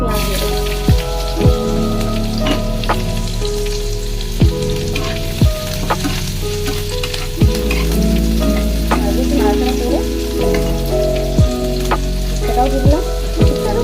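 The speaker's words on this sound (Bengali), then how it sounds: "কালো জিরে ফোড়ন দিয়ে দিয়েছি, এবার একটু পেঁয়াজ দিয়ে দেবো" Onion frying in oil with nigella seeds, a loud close crackling sizzle broken by sharp spatula taps on the pan at irregular intervals, with a little background talk.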